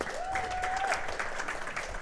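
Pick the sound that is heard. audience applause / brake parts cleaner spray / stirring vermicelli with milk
audience applause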